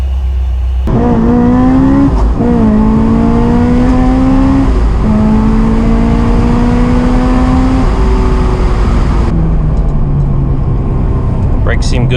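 A Honda S2000 sports car engine revs loudly and climbs in pitch through several gears as it accelerates on a test drive, close and steady throughout.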